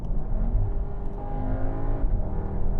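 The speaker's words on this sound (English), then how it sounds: "that engine is so smooth, very strong, very, very strong." A Volkswagen Tiguan R SUV engine accelerating in R mode, heard from inside the cabin as a steady, strong, smooth drone that holds continuously, with no talk over it.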